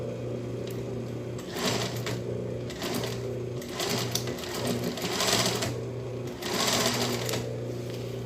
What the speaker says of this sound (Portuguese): Aí eu vou vir com a costura bem aqui do lado dessa